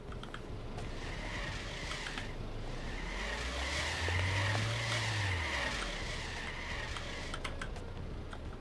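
A car in the Trader Life Simulator 2 game drives and pulls in to park, an engine tone rising and falling with tire noise over a steady background, while keyboard key clicks tap along, especially near the end.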